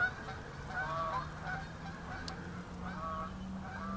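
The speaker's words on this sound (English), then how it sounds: "Noisy geese go overhead." Geese fly over a wild river, giving several faint, distant honks above a steady outdoor background hum.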